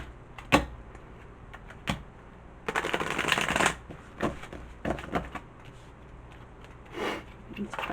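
Tarot cards shuffled by hand close up, a few sharp flicks followed by a longer riffling burst and then scattered soft taps and card slides, with quiet background and no talk heard.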